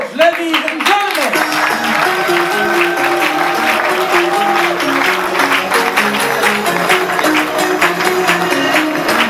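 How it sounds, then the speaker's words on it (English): An audience welcomes a singer at a press event in Cannes with loud, continuous applause, mixed with music and a voice over the top. "To your applause, ladies and gentlemen."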